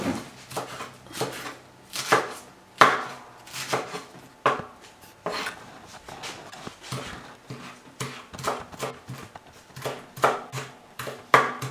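A knife chops fresh cilantro on a cutting board for Mexican rice, giving repeated close, sharp taps in uneven bursts with short pauses between them.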